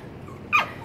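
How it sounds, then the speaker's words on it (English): A Norfolk Terrier gives a single short, high yip while barking at water spraying from a garden hose at a pool, brief and moderately close against faint outdoor background. "You scare the babies when you're barking at that hose water."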